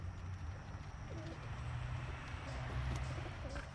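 Soft, low cooing from Birmingham Roller pigeons runs steadily beneath a constant outdoor hum, with faint chirps scattered through.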